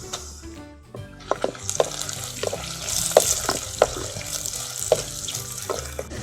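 Three dried red chillies dropped into oil with golden-browned garlic for a kara kuzhambu, crackling and sputtering at close range with sharp pops and spoon clinks.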